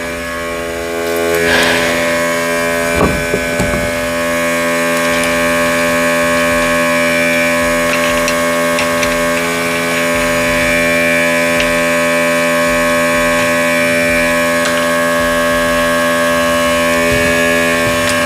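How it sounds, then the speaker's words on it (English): An air compressor runs in a home garage during a flat tire repair, a loud continuous droning hum with steady tonal lines, with a few brief knocks early on and no talking. "I should turn that compressor off. Longer need that loud thing."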